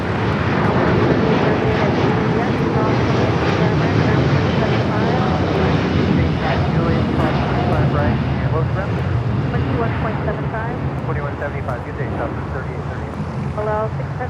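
Jet airliners roar continuously at LAX, engines rumbling loud and near with wind buffeting the microphone, as planes take off and land; a voice talks faintly underneath.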